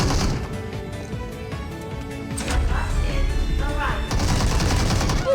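Gunfire from a moving tram in PUBG Mobile, with several bursts of shots over steady rumbling engine and track noise, loud and close.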